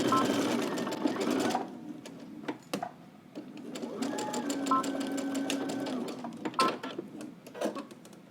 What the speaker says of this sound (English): We're just going to stitch 5/8 of an inch from the edge until we get to the edge of the fabric